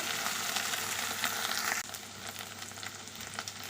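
Okra frying in oil with dried red chilli, producing a loud, bright, steady sizzle that suddenly drops to a quieter crackle with some stirring.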